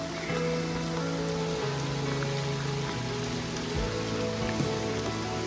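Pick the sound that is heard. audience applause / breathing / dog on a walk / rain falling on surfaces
rain falling on surfaces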